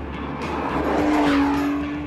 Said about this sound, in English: I cannot tell you how joyful it is to drive a V12 sports car with a proper manual gearbox